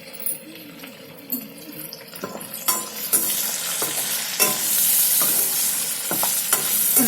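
Chana dal and moong dal fry in a pan for a cabbage curry, giving a steady close sizzle that swells louder toward the end, broken by scraping stirs and light clinks of the spoon against the pan.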